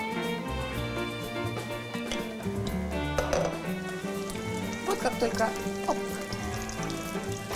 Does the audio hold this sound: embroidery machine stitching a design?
no